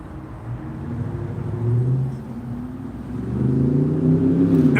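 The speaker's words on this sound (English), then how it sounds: "I'm on the drive, driving my truck" A truck drives along a road, its engine a loud, continuous low rumble heard from inside the cab, swelling as it accelerates partway through.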